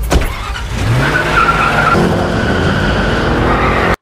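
A car in the Die Hard film drives off and skids, tires squealing loudly over a steady engine roar for a few seconds before cutting off abruptly.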